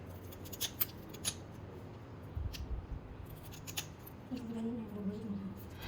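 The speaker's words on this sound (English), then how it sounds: "Now you cut the tail." Scissors snip through a slippery fish's tail during cleaning at a Goan fish market, giving a few quiet, close crisp cuts against a low background hum.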